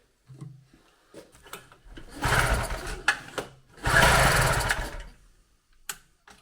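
Small Chinese two-stroke generator engine catching with two loud, rough bursts of running, each a couple of seconds long, then dying away, with scattered knocks and clatter around them.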